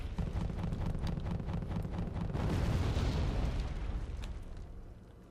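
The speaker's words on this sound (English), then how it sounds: "that artillery is king of battle" Artillery fire in the Wargame Red Dragon strategy game, a dense rumbling roll of heavy booms that swells into a sustained low blast and then fades, loud and unbroken with no voices.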